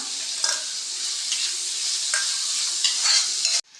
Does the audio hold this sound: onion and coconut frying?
yes